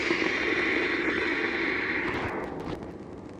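A CO2 bottle valve vents in one sustained, loud roaring hiss to make dry ice, the blast steady before fading and sputtering into faint crackles near the end.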